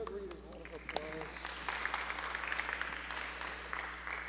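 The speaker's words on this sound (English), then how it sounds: "That was a good reading. Round of applause." Audience applause after a reading in an elementary-focused talk, a brief spell of clapping building up after a voice, steady and moderately loud to the end.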